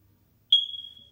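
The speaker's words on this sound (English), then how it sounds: "You go to YouTube and type in low smoke beep?" One short, high, piercing electronic chirp of a smoke alarm's low-battery warning, played back and ringing out briefly in near silence.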